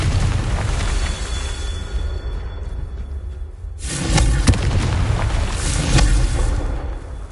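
A Confringo fire spell explodes in the video game Hogwarts Legacy. After a stretch of low rumbling game ambience, a sudden loud boom hits and rolls on, followed by a second swell of crackling blast noise.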